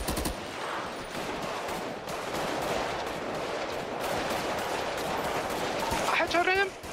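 Rapid gunfire bursts from a GTA roleplay shootout on the NoPixel server, crackling steadily through the whole stretch with excited voices talking over it.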